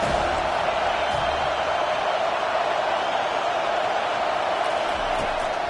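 A stadium crowd roars at a football game on third down, a dense continuous wall of cheering and shouting that stays loud and steady throughout with no distinct voices standing out.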